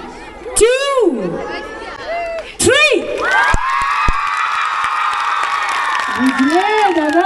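Children at a village fair cheer and shout loudly together, a sustained burst of voices after a brief spoken countdown, with an adult talking at the start and again near the end.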